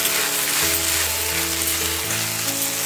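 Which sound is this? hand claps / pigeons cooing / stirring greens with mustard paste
stirring greens with mustard paste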